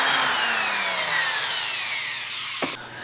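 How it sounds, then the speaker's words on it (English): Dremel rotary tool cutting plexiglass, a high whining grind with a slowly falling pitch that stays loud and close, then a sharp click and a drop as the tool eases off near the end. "So plan B is using the Dremel."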